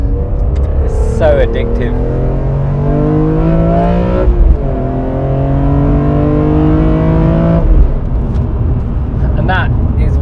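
BMW M3 CSL engine and airbox roaring loudly from inside the car while driving, with rising and falling revs through gear changes and a person speaking briefly over it.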